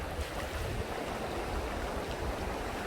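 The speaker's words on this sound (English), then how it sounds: "let me cross this dangerous river here" Footsteps wade through a shallow river crossing a Khao Lak beach, with steady splashing and flowing water under a wash of surf and wind, close and continuous.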